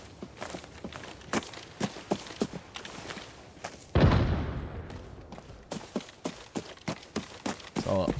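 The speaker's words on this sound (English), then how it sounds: "an awful lot of explosions happening" Explosions in the video game Arena Breakout: Infinite, one heavy boom swelling at mid-clip amid scattered sharp thuds and gunshot-like cracks, moderately distant.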